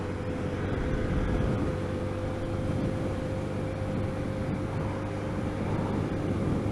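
Lexmoto ZSB motorcycle engine while riding at speed in a high gear, a steady droning hum with constant tonal engine harmonics under continuous wind rumble.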